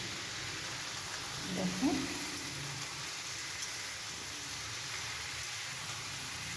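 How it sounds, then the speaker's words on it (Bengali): Potato pieces frying in a pan for Bengali aloo posto give a steady, close hiss of sizzling oil throughout, with a brief spoken word near the start. "এই আলুটা ভালোভাবে লাল করে ভেজে নিতে হবে"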